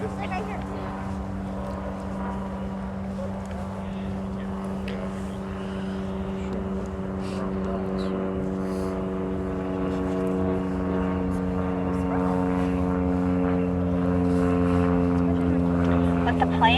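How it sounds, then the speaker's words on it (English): A propeller airplane flies by with a steady droning engine hum that slowly grows louder over about seventeen seconds, heard outdoors at an evening Christmas walk-through event. "Let the plane go by."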